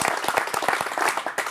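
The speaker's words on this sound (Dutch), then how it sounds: "Applaus voor Matheus." A studio audience at a Dutch sports talk show gives a short burst of lively clapping, close and dense, for about a second and a half.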